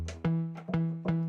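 Bass notes of chords played on a MIDI keyboard, three short repeated notes struck at an even pace, each decaying quickly under a brief upper chord tone.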